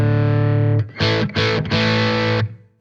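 An acoustic guitar runs through a Fender Smolder acoustic overdrive pedal as its tone control is adjusted: a sustained distorted chord, then several bright strummed bursts with short gaps, loud and close.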